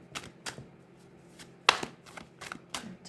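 Tarot cards being shuffled by hand: a run of soft, papery riffles and taps in irregular bursts, close up and fairly quiet.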